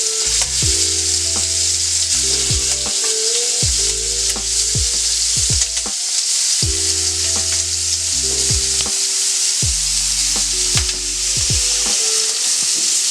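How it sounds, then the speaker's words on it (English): Marinated chicken wings sear in a hot pan with a loud, steady sizzle, broken by repeated scraping stir strokes and occasional clacks of a utensil, close and continuous, with no voices. "now that they've been marinated, we're just gonna sear these"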